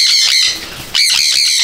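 Loud, close squawking and shrill calls come from birds at a racing pigeon loft in Hatkhola village, in two harsh bursts with a brief quieter gap between them.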